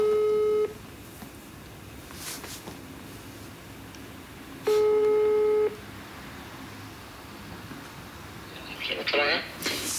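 A telephone ringing tone plays during a call to a meteorologist from a Diamond DA40 trip around Norway: two distinct long beeps near the start and middle, with quiet line noise between and a brief voice near the end.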